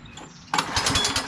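A lawn mower engine with a likely clogged gas tank is pulled over and sputters roughly, a sudden burst of uneven chugging after a quiet moment, close by.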